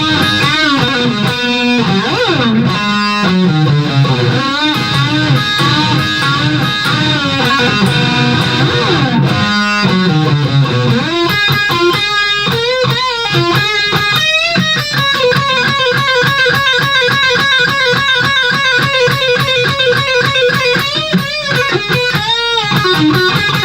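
A guitar solo section plays on a loud, distorted electric guitar over a band, with rapid bends and fast repeated notes sustained throughout with no talking.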